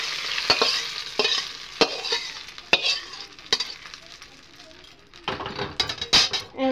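Chillies and spices sizzle and fry in oil in a kadai while making idli sambar, with repeated sharp stirring scrapes and clinks of a spatula against the pan over a steady crackle.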